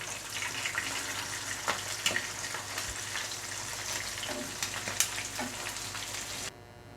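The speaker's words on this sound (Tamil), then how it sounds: "ஸோ ப்ரான் நல்லா ஃப்ரை ஆகிடுச்சு, நல்லா கிறிஸ்பியாக ஃப்ரை ஆகிடுச்சு." Marinated prawns fry crisp in hot oil, a continuous close crackling sizzle with scattered sharp pops, steady for several seconds and then cutting off abruptly near the end.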